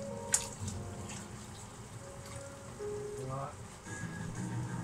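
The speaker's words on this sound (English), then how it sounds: "we're now going to top up water for the potatoes" A kitchen tap runs steadily, topping up water in a pot of potatoes, a constant close splashing rush that someone talks over.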